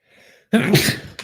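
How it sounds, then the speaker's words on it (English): One short, sharp sneeze, close and loud, preceded by a faint intake of breath. "Sometimes I need to sneeze at random moments."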